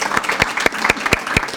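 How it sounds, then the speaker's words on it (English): Brief applause at a community awards ceremony, heard as distinct claps in a fairly regular rhythm, close and moderately loud, as from a small group. "Let's give one more round of applause, particularly for the United Way"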